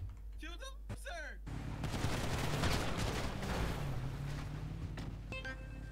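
Game gunfire in GTA 5 during a police roleplay chase, a dense burst of shots and loud explosive noise lasting several seconds after brief talk, with a vehicle engine rumbling underneath.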